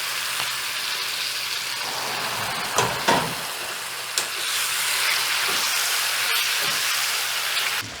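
Ground greens chutney tipped into a hot tempering of oil in a pan, giving a loud, steady, close sizzle that hisses throughout, with a few brief clatters of a utensil partway through.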